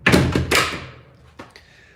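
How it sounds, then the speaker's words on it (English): A room door being pushed shut nearby, making two heavy thunks close together, then a lighter click of the latch as the noise dies away. No one is talking. "I'm just gonna close the door here because it gets so loud."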